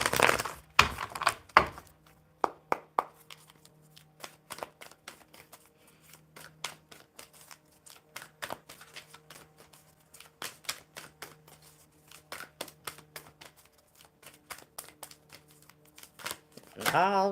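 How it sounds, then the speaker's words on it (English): Oracle cards shuffled by hand in repeated quick riffling bursts and taps, close but soft, continuing at an uneven rhythm over a quiet background. "One more good shuffle."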